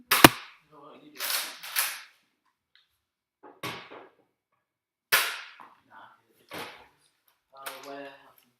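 Nerf blasters firing foam darts during a competition, a handful of sharp, separate pops spaced across the stretch with quiet gaps between them.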